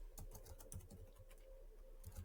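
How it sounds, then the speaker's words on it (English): Fingers typing on a computer keyboard, a quick, quiet run of soft clicks heard up close with no one speaking. "So I'm just typing this one and see what output is it's going to give."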